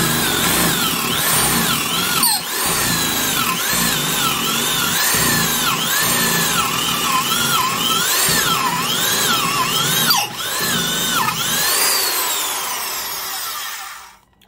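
Irish-made Hitachi 3/8-inch corded utility drill running under load with its chuck slipping, a loud high motor whine that rises and falls in repeated waves, then winds down and stops at the end.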